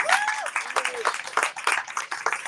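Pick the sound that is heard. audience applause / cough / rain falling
audience applause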